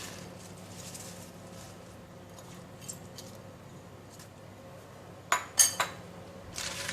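Clams with spring onions and sweet basil stirred in a pan off the heat, quiet background with a few sharp metallic clinks of a utensil against the pan near the end.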